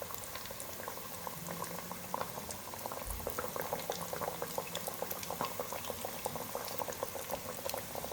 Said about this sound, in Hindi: अब 3 से 4 मिनट के लिए हम मीडियम फ्लेम पर फ्राई करेंगे।